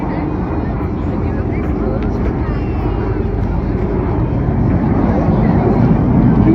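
Red Arrows display jets roar loudly and continuously at a seaside air show in Blackpool. The broadband engine rumble holds steady throughout and swells slightly toward the end as the aircraft close in on the display line.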